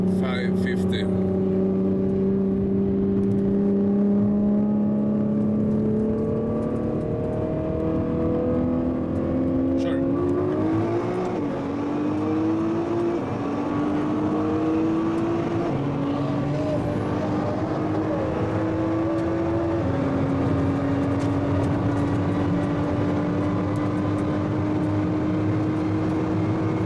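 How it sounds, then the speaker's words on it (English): Two high-performance cars racing, a 900-horsepower Nissan GT-R R35 against a 550-horsepower Underground Racing Lamborghini Gallardo: loud, steady engine roar with rising pitch sweeps as they accelerate through the gears, with a voice talking over it. "GTR 900 horsepower versus Underground Racing Gallardo 550."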